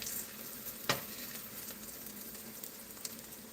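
An onion sizzles in hot oil for a blooming onion, a faint continuous frying crackle with a brief sharp clatter near the start.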